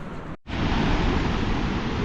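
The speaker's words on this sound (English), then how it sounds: "Just the Ganga river flowing through the valley." The Ganga river flowing through a Himalayan valley, a steady broadband rush of water heard close and loud. It cuts out for a moment near the start, then continues unbroken.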